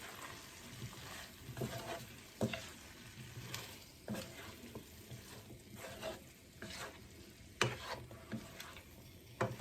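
Karela, bitter gourd, frying in a pan with peanuts and potato while being stirred, giving a steady sizzle broken by repeated scraping strokes and sharp utensil taps every second or two, close and fairly quiet.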